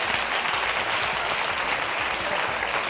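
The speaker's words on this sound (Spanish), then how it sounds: "¿No le damos un aplauso a Almería, que viene a las 2 de la tarde?" Steady, dense applause from a studio audience on a Spanish television debate programme, loud and continuous throughout with no talk over it.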